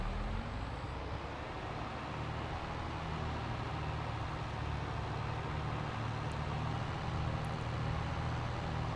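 Tractor engine in Farming Simulator 22 rumbling steadily at a low, even drone, close and continuous throughout with no talk, while the tractor drags trees with a front weight fitted.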